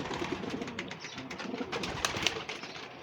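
Many pigeons cooing together in a loft crowded with males, a dense, continuous chorus of soft throaty coos close by, with a few sharper flutters or calls mixed in.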